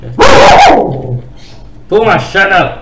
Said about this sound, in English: So that was my dog.